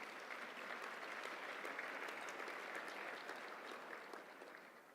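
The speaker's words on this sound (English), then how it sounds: "Let's give them another big round of applause." Steady applause from an audience at a women's hall of fame induction ceremony, a dense wash of many hands clapping at moderate distance, fading slightly toward the end.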